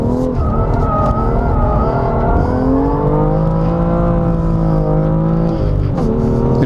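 A BMW M2 engine under hard throttle while the car drifts, a loud close harmonic roar that holds and shifts pitch, with tire squeal layered over it, no talking.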